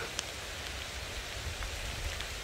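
Steady light rain falls on a foggy mountain trail at Tohamsan, giving a soft, faint, even hiss with occasional tiny drop ticks.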